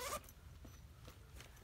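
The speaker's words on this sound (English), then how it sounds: "Let's zip it." A zipper closes on a handmade fabric organizer bag for beading and jewelry supplies: a quick, bright rasp up close at the start, then faint soft rustling of the fabric.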